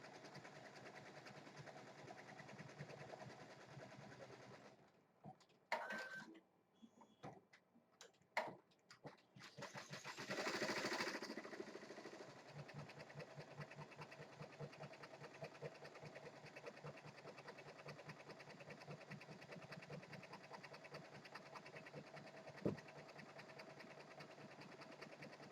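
An Avance 1501C embroidery machine stitches with metallic thread, a quiet, steady, fast mechanical whir that breaks into a few clattering bursts midway and then resumes its even rhythm.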